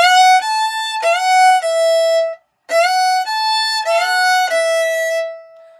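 A solo violin plays the intro of a song with bright, sustained bowed notes that slide up into pitch. The notes come in two phrases split by a brief pause, close and clear, with no talking.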